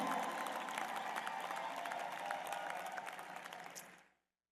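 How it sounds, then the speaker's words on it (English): Large audience at an inaugural address applauds young people worldwide, a sustained even wash of clapping that cuts off abruptly near the end. "Let's give a big applause for all the young people of the entire world"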